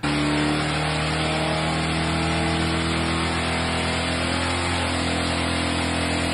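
A turbocharged engine in the new Meyers Manx revs steadily with a rising whining pitch, loud and close, the tone climbing then settling over several seconds.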